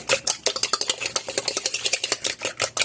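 A quiche filling seasoned with aglio olio seasoning is stirred briskly in a bowl, giving a quick, steady run of close scraping and sloshing strokes with no voices.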